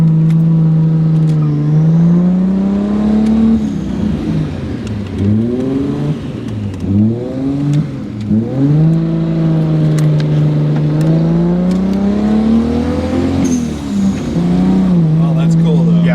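A twin turbo Toyota Cresta engine idles with a steady rumble, then revs up and down repeatedly, loud and close, with people talking over it.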